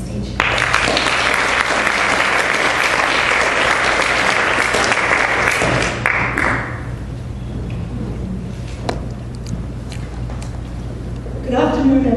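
Loud audience applause fills a conference hall for about six seconds as a speaker is welcomed to the stage, then tapers into scattered claps and room noise.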